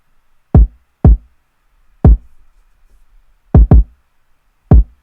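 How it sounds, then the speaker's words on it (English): A punchy kick drum sample strikes six times in an uneven beat, each hit a loud, short, deep thump with a quick decay and silence between, one pair landing close together. "So that is a super punchy kick."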